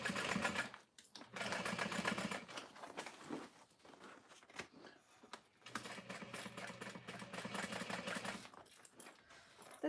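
Stitching on a satchel side panel, a home sewing machine hums in two long, close runs broken by brief stops and soft fabric handling, fairly quiet overall.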